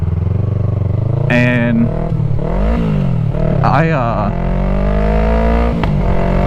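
A Yamaha MT-03 motorcycle rides along with a steady engine drone. Its pitch rises and falls as the rider shifts and revs, and the sound is close and loud. One spoken word is audible over it.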